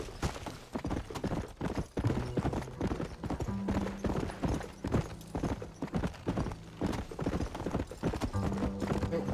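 Rapid, rhythmic hoofbeats of a galloping horse in the video game Red Dead Redemption (2010, Xbox 360), close and continuous, with faint low tones beneath.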